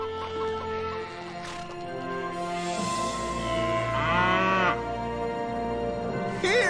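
An animated farm cow lets out a drawn-out, wavering moo partway through, over steady background music, fairly close and clear.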